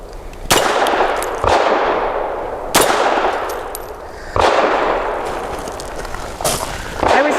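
Several loud, sharp shots from a Grand Power LP380 pistol at a shooting range ring out at uneven intervals, each a sudden crack with a long reverberant decay that rolls away before the next one.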